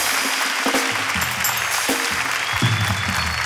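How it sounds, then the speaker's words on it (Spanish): Audience applause rings through a comedy theater during a live improv show, a dense, even wash of clapping that holds steady for the whole stretch. "Fuerte aplauso para ustedes que lo hacen increíble todas las noches."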